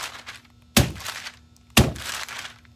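A large cut-out is banged down on paper to knock out built-up material, two sharp, hollow thunks about a second apart, close and loud, each with a short rattling tail.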